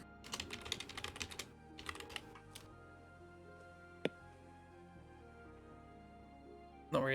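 Bursts of typing on a computer keyboard, clustered rapid clicks in the first few seconds, then a quiet stretch broken by a single sharp tap and a final short burst of keys; close and fairly quiet.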